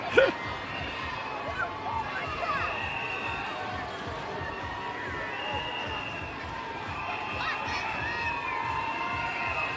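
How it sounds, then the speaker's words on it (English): A crowd cheering along a Mardi Gras parade route in downtown Mobile on Fat Tuesday, with steady shouting and children's voices in a continuous outdoor roar and a dog barking now and then. "With all the cheering out here."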